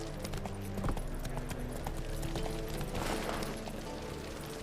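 Roach the horse's hooves clip-clop in Witcher 3, a quick steady rhythm of hoofbeats over a dense game backdrop, with no talking.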